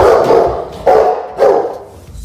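A large Rottweiler barks three times in quick succession, loud and close, each bark deep and full with short gaps between.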